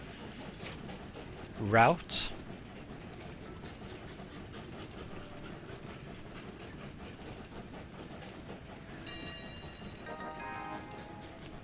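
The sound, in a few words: train running on tracks in a video game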